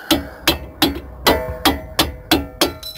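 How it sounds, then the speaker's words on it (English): Screwdriver struck with a hammer like a punch to knock out a clip during Nissan Rogue front axle replacement, eight sharp metallic blows in a fairly steady rhythm, loud and close. "I need a screwdriver to pound that clip out."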